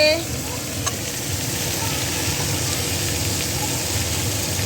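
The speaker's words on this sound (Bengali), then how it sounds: "এদিকে আলু ভাজা হচ্ছে" Steady, loud sizzling of potatoes frying in oil in a pan, a continuous crackling hiss throughout with a brief clink near the start.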